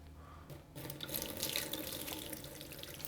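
Water starts pouring and splashes steadily into a basin, a continuous close rush that runs on without pause.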